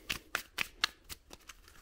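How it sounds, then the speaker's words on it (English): A deck of cards is shuffled by hand for a tabletop game, giving a series of crisp riffling bursts and soft taps, close and fairly quiet, with no talking. "You're going to give that a shuffle"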